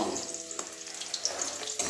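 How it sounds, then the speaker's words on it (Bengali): Water is poured or taken from a tap into a container in a kitchen, ready for soaking fried paneer. It gives a close, steady splashing trickle that lasts about two seconds. "এই যে জল নিয়েছি এই জলের মধ্যে ভিজিয়ে রেখে দেবো"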